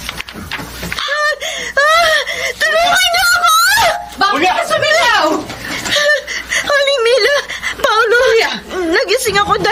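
A woman in a Filipino radio drama about a witch screams in long, loud, wavering cries that rise and fall, with other voices overlapping through the clip.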